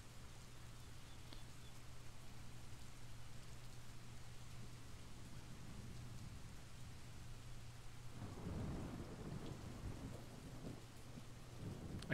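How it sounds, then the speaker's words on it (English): Recorded rain and thunder ambience playing in a room, a steady hiss of rainfall with a low rumble of thunder swelling near the end, quiet and continuous. "This is not actual rain."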